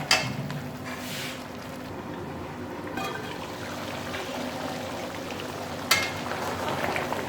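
Aloo palak curry simmering in a pot with milk and cream, a steady soft bubbling and sizzling throughout, broken by a couple of brief clinks, with no talking.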